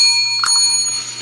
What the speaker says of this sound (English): I will ring the bell with my nose.